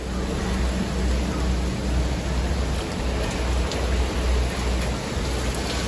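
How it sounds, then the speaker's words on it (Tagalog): Heavy rain pouring down in Hong Kong during a typhoon with strong winds, a dense, steady wash of downpour with low rumbling gusts, continuous and close throughout. "Dahil napakalakas ng ulan ngayon dito sa Hong Kong"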